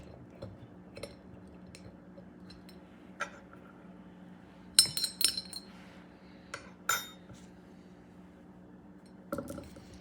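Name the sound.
Hungarian pepper added into a glass hot sauce bottle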